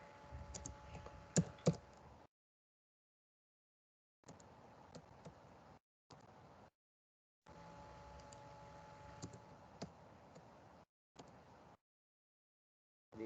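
Typing on a computer keyboard in a few short bursts separated by silent gaps, soft and close, with occasional sharper key clicks and no speech.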